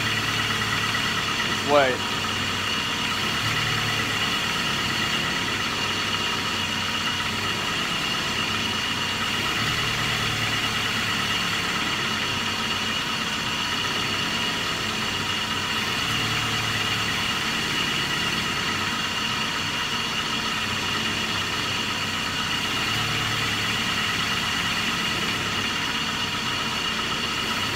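A car engine idles steadily with its A/C compressor engaged, giving a continuous close hum and vibration throughout, with a brief voice near the start.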